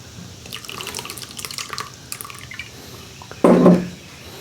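Pawpaw moonshine mash is strained, with close trickling and scattered drips of liquid, light clinks, and a brief louder gush of pouring near the end.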